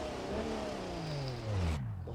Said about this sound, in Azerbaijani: Motora bax dinləmək.